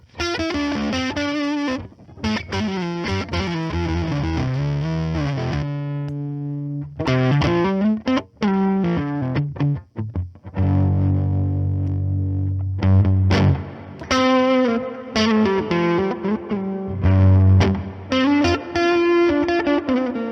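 Electric guitar played through heavy fuzz distortion from an EHX fuzz pedal with its trim pot at minimum, sustained chords and riffs with thick saturated tone and brief pauses, loud throughout.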